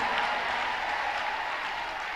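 An audience at a church sermon on marriage applauds and cheers in a steady, dense wash of clapping that lasts the whole short stretch.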